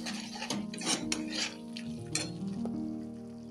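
Masala batter for stuffed brinjal fries in oil in a pan, a steady sizzle broken by several sharp scrapes and clinks of a spoon stirring against the metal.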